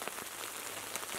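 Rain pattering steadily on a surface at an island survival camp, a dense even hiss with scattered closer drops ticking through it.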